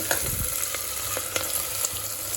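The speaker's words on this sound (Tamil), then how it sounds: "இது நல்லா ஹை ஸ்பீடில் ஒரு 5 நிமிஷம் வதங்கட்டும்" Onions sauté on high heat in oil for mutton biryani, a steady close sizzle with a few soft scraping stirs across a short stretch.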